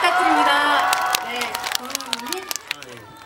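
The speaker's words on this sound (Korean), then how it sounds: "네, 박수" Audience applause at a film festival stage greeting in Busan, broad clapping noise with scattered sharp claps thinning out, while voices talk and call over it.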